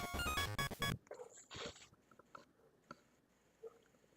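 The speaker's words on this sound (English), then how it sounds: "my dogs are going apeshit out there" Dogs barking outdoors at a distance, a loud burst of barking at the start followed by scattered fainter barks and whimpers from outside, with no talking.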